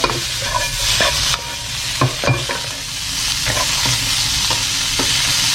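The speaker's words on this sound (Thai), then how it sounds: "ผัดให้ผงกะหรี่นี้ออกกลิ่นกันนะครับ" Curry powder stir-fried in a pan gives a loud, continuous close sizzle, with scattered spatula scrapes and taps against the pan through the stretch and no talking.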